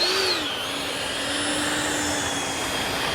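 FMS 64mm EDF J-10 RC fighter jet spooling up before takeoff, a steady loud electric ducted-fan whine with a falling pitch at first, then holding an even, continuous roar throughout with no talk.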